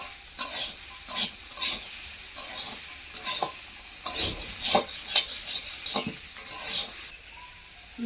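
Seasonal vegetables, including snake gourd, fry in a pan under a soft background sizzle, with repeated scraping stirs of a spatula coming in irregular bursts, close and moderately loud.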